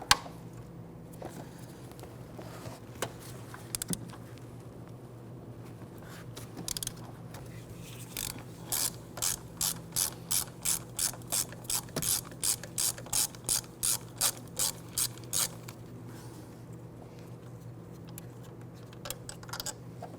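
Ratchet wrench loosening a 13mm bolt on the back passenger side of a 1999-2004 Jeep Grand Cherokee 4.7L V8 AC compressor: a close, quick run of rhythmic clicks after a few scattered taps, then quiet.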